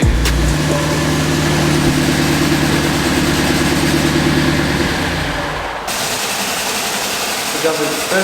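A car engine running loudly and steadily close by in a garage, with a constant rumble that shifts in tone partway through.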